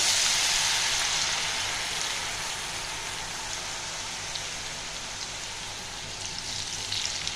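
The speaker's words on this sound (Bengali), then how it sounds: "এবার আমি এক দু মিনিট ভালো করে ভাজবো" Shredded potatoes frying in hot oil over medium-high flame, a steady broad sizzle that stays loud and continuous throughout with no talking.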